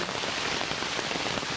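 Heavy rain pours down steadily during a flood, making a dense, continuous hiss that fills the short clip with no voices.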